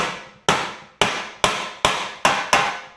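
Metal hammering on a dented valance panel from a 1959 Chevrolet Bel Air, seven sharp ringing blows struck at a steady rhythm, each decaying before the next, loud and close with no talk.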